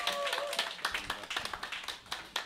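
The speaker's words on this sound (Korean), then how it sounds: "큰 박수 부탁드립니다." Sparse, uneven clapping from a small audience, distinct individual claps in an irregular rhythm at modest level, with a faint tone briefly audible at the start.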